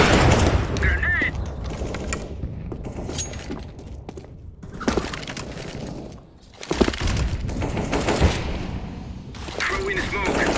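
Gunfire and a grenade blast in a tactical shooter video game, with bursts of shots and booms across the stretch and players' voices calling out under the noise.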